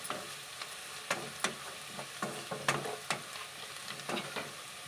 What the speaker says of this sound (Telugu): దీంట్లో చిటికెడు పసుపు వేసి ఒకసారి కలిపిద్దాం